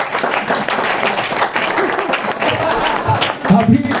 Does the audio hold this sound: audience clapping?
yes